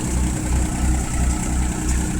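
A Mahindra 275 tractor driving a Shaktiman thresher gives a loud, steady, close low engine drone with a throbbing rumble and a mechanical hiss, with no talk over it.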